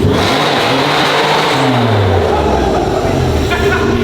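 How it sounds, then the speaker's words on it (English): A car nicknamed the Shambo doing a burnout in a shop, its engine revving loud and steady with the pitch sweeping down and back, filling the space with a dense continuous roar. "That was actually the first time I've ever seen the Shambo do a burnout."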